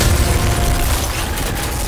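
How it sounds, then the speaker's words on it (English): A deep, rolling blast rumbles through a skyscraper in an action movie trailer, loud and heavy at first, then slowly fading. "There's been an explosion."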